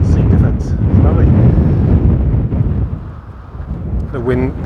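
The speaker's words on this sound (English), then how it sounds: "Bit windy." Strong wind buffets the microphone on a coast path along a grass-topped sea defence, a loud continuous roar with a voice speaking briefly near the end.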